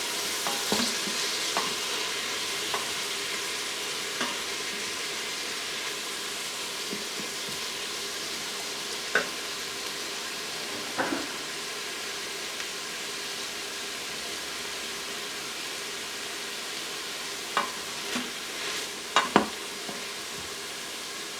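Diced vegetables for chicken and sausage jambalaya sauté in an Instant Pot, giving a steady, close sizzle across the whole stretch, broken by occasional soft scrapes and taps of stirring.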